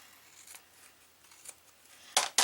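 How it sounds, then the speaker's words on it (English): Scissors trimming excess paper from a junk journal book cover, a few quiet snips early on followed by two sharp, close cuts at the end. "Let's trim that off."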